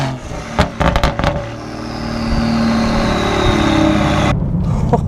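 A tuned 500 hp BMW 340i F30 engine roars steadily as it accelerates, loud and close, after a few sharp clicks and knocks at the start; no talking.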